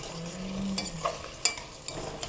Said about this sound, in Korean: 이때 한 반 정도 졸아졌을 때 고추장을 넣고 섞어주면 됩니다.